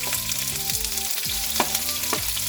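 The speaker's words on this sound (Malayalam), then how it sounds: "ഇനി നമുക്ക് ഇതിനകത്തോട്ട് ഈ അരിഞ്ഞു വെച്ചിരിക്കുന്ന ഉള്ളി ഇട്ട് കൊടുക്കാം" Chopped onions sizzle in hot oil in a pan where mustard seeds have already popped, a steady close frying hiss with a few stirring scrapes, cooked for an American-style chicken curry.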